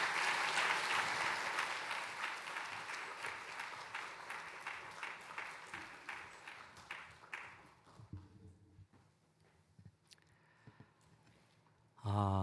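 A church congregation at a Sunday service gives loud, sustained applause to welcome the pastor, then the clapping thins and fades out, followed by a brief thump at the end.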